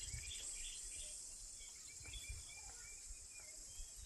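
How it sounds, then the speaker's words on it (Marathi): Various birds calling across the Konkan countryside, a steady outdoor chorus of chirps and insect-like trills with scattered brief calls, moderately distant and continuous without speech. "ह्याच्यामध्ये तुम्हाला वेगवेगळ्या पक्ष्यांचे आवाज ऐकायला मिळतील।"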